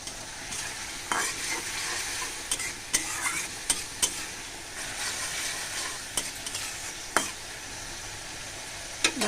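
Dried fish stir-fried in a pan, a continuous close sizzle with sharp scrapes and taps of a spatula recurring every second or so, no talking.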